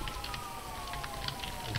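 A police siren wails faintly and steadily in the background, its tone held over a constant wash of noise for the whole short stretch.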